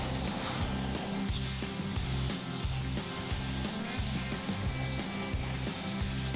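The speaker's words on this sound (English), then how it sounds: "Running the seam sealer." Seam sealer is applied to a car body with a continuous spraying hiss over a rhythmic low rubbing pulse, steady and close throughout, with no talking.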